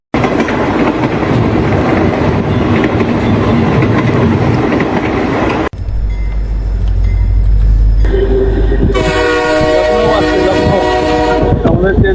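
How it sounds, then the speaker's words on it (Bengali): A long-distance train from Bardhaman to Jammu Tawi pulling into Lucknow station, loud steady rumble and rattle of the cars, then a brief break followed by low engine drone and a sustained, tonal horn blast near the end. "ট্রেন এবার লখনউতে আসছে"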